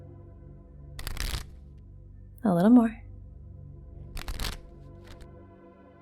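Two brisk bursts of cards riffle-shuffled close by, one early and one near the end, with a short spoken remark between them.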